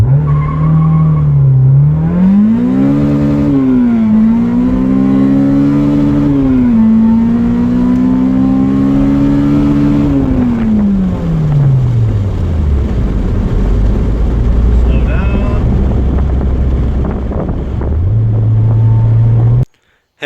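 A K20-engine-swapped Honda Insight makes hard pulls through first, second and third gears, its loud engine note climbing in steps with shifts before dropping to a lower drone and then idling.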